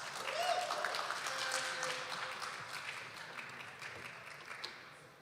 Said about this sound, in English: Let's give a warm, welcome round of applause to our friend, Brooke Caswell.